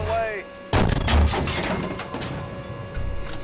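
A tank cannon fires in the Steel Beasts simulator, an M1A2 platoon fighting T-72B3s: one loud, sharp blast followed by a rumbling, sustained roar of battle noise.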